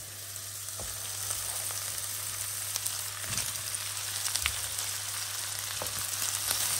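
Sliced špekáček sausages fry with onion in a pan for sausage goulash, a steady close sizzle with scattered pops and crackles and an occasional clink, growing slightly louder, no one speaking.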